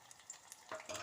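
Chana dal tipped into hot oil with curry leaves for a tomato pickle sizzles faintly, with soft stirring scrapes and a brief louder crackle near the end, no talk.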